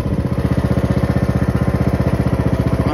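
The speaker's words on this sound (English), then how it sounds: "I'll hear the start up and turn the blade on. See, it's not really that loud." A John Deere E100 lawn tractor engine runs with the mower blade engaged, a loud, close, steady chugging beat with rapid regular pulses throughout and no talking.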